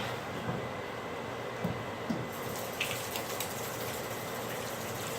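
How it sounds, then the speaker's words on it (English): Water runs steadily from a kitchen tap as buttery hands are washed during keto pecan pie baking, a constant close splashing hiss with a few small knocks and no talk. "let me wash my hands because they're buttery"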